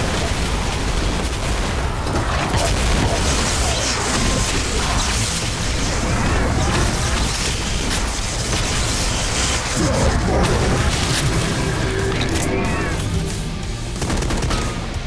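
Rapid carbine gunfire from the Project Brutality mod for Doom on Plutonia MAP07 Caughtyard, loud and continuous with bursts, mechanical clatter and booming impacts.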